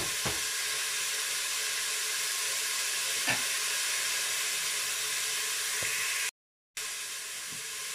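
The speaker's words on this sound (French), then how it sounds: "Alors ici j'ai du chorizo à cuire. J'en ai 8 petits. Alors je les mets à rissoler." Eight small chorizos brown in a Cookeo multicooker on its browning mode, giving off a steady, soft sizzling hiss with a few faint clicks and a short silent gap near the end.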